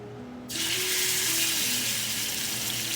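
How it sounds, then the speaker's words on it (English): Pork goes into a pot on a stove set to medium heat and sets off a sudden loud, steady hiss and sizzle. It holds at a constant level, with faint low clatter underneath. "we're gonna go ahead and get the pork in here"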